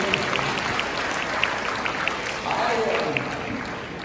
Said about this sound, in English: Can you give Adam a round of applause?